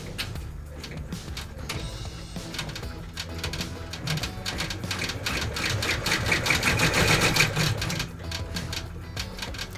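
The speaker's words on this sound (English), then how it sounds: "as soon as it starts stitching, it will tack that ear down for us." Embroidery machine stitching down a bunny ear in the hoop, a rapid steady mechanical whir of needle strokes that swells louder toward the middle and then eases slightly.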